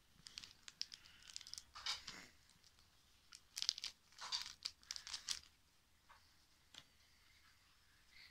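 Pokémon card booster pack being opened, with soft crinkling and tearing of foil wrapping in short bursts and card handling, quiet and close with no talking.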